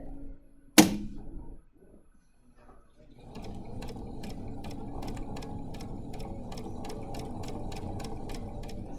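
A sewing machine stitching a bookmark: one sharp click, a short quiet pause, then a steady, fast, even run of needle ticks that carries on close and clear.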